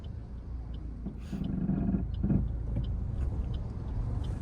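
A car engine idles and labours in first gear on an uphill slope, a low steady rumble with a slight rise as it pulls, with no talk.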